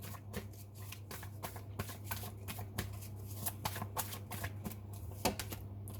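Tarot cards are shuffled close up in a quick, steady run of papery flicks and riffles over a low constant hum, with no voice.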